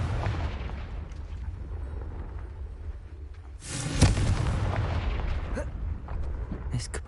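The Confringo explosive spell cast in Hogwarts Legacy, a heavy booming blast that erupts over a continuous low rumble of game sound and then rolls on afterward.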